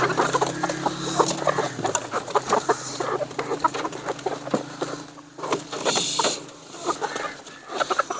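Hens clucking and squawking after being let out of their coop, a busy chorus of overlapping close calls and sharp cackles over a low steady hum.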